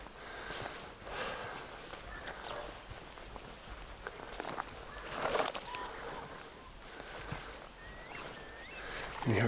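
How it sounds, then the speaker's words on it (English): A cuckoo calls at sunrise in the Lake District. Its faint, distant cooing notes repeat in the background among other birds, with soft footsteps nearby. "You hear a cuckoo in the background as well."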